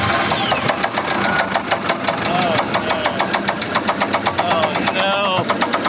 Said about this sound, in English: I think it spun a rod bearing or a main bearing, like the race car did.